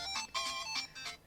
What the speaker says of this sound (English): I've actually found a good song for a timer tune, like the alert sound. It's the Nintendo Land Retro Main Plaza theme.